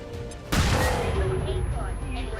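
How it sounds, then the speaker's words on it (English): A flashbang grenade goes off in XCOM, a sudden loud bang that rings out with a sustained noisy tail, and a voice talks beneath it. "Single target flashbang right there."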